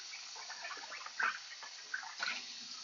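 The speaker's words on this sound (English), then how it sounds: "rinse that, hot water, bristle brush" Hot water runs while a sprouting container is rinsed and scrubbed with a bristle brush, giving a faint, steady splash with a few soft knocks and clatters from handling.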